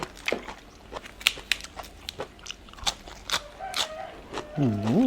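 Someone eats spicy som tam papaya salad, with repeated close, loud crunchy bites and chewing, followed by a brief hum of a voice near the end.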